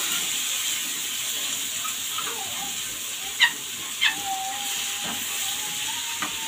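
Steady hissing sizzle of garlic and coriander frying in ghee, poured over cooked mallow, a bright continuous crackle close by with a few soft clinks and faint whistling tones.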